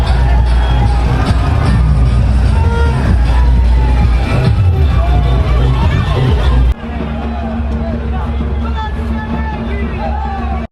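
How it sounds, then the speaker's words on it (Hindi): Dense crowd hubbub at a Durga idol immersion procession in Guwahati in the evening, steady loud babble of many voices with occasional shouts and bangs, dropping slightly in level partway through but continuing throughout. "अभी शाम का टाइम है और बहुत ज़्यादा भीड़ है।"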